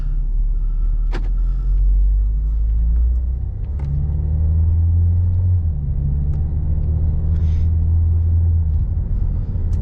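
A Ford Escape with the 1.6 EcoBoost engine gives off a steady low droning rumble, loud and continuous, with faint clicks and small shifts in pitch over the hum and no talk.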